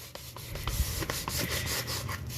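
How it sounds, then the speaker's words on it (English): Baseboard trim gets scrubbed during house cleaning, a repeated rhythmic rubbing and scraping, close and steady with no voices. "we're just gonna run it along the baseboard trim just to get it cleaned up"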